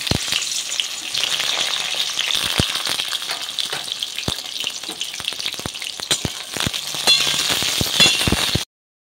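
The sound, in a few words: eggplant pieces frying in oil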